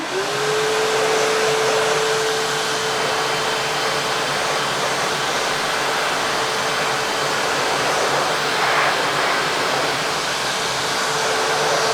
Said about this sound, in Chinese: 我们再把这个插口呢放在出风口这里，这里就是吹风机了